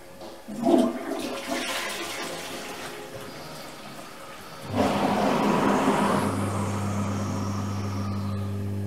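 A leaking toilet flushes nearby on a plumbing job, with a quiet trickle first, then a loud rushing surge of water that settles into a steady tank-refill hiss and hum.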